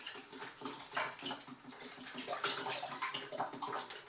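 Tap water runs and splashes steadily for several seconds, a close, continuous gush with some gurgling, poured out while cleaning a rabbit cage in an apartment.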